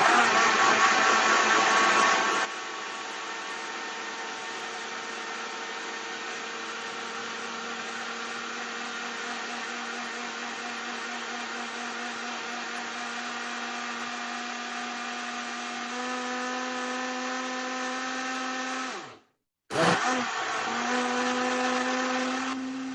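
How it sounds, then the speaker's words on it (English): An electric blender mixer whips cream for scones, a loud steady motor whine running for about twenty seconds, shifting pitch as the cream thickens, cutting off briefly, then starting again. "So put your cream into a blender mixer."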